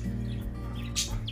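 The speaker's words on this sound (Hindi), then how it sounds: "देखें सारे परिंदे एक साथ आ गए हैं" Birds chirping as a flock gathers to feed, near pigeons, with short bright tweets over a steady low hum; brief and fairly faint.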